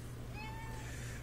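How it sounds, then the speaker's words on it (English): A cat meows faintly once, a single rising and falling cry in a farm equipment shop where work on a tractor's power shift transmission is underway, heard over a steady low machine hum. "Got two cats."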